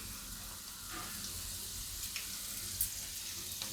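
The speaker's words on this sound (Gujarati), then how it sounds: "આ રીતે જેટલી આવે એ પ્રમાણે દાળ આપણે તરી લેવાની એમ." Moong dal frying in hot oil, a steady, dense crackling sizzle that carries on evenly throughout, with a few faint clinks of stirring and no voices.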